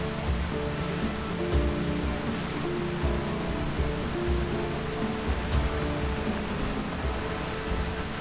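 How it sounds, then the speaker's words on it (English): Steady hiss of rain and storm in the pirate video game Windrose, a dense, even wash of falling water with low rumbling beneath, continuous throughout and with no talking. "I'm inside, man, from the rain, the storm."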